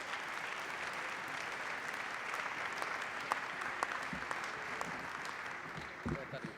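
An audience at a church congress round-table session applauds steadily, a dense, even wash of clapping that continues throughout with a few sharper individual claps near the end.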